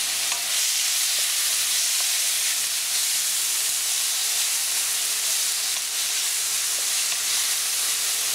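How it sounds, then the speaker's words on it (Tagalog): Onion and tomato sautéing in a pan for canned tuna sarciado make a steady, close sizzle with a constant hiss and a few faint stirring clicks, and no one speaks. "Itutuloy lang natin yung pag-isa hanggang sa tuluyan ng lumambot yung sibuyas pati na rin yung kamatis."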